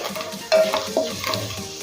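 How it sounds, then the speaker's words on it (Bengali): Urad dal and chana dal fry with a dried red chilli in a pan of oil for lemon rice, a steady close sizzle broken by a couple of sharp spoon scrapes and clinks as they are stirred. "দেবো 1 চামচ মতো বিউলির ডাল, আর সাথে দেবো 1 চামচ চানা ডাল। 1 মিনিট সময় নিয়ে ডাল দুটো ভেজে নেব।"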